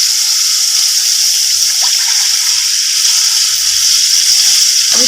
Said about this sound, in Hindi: 2 डिब्बे डाल दूँगी पानी के।